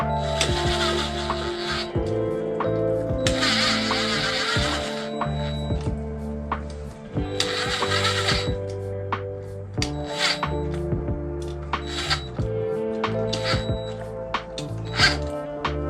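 A power tool running bolts down on a 1993 Toyota pickup, repeated whirring bursts of a few seconds each with clicks and clatter between them, close and fairly loud.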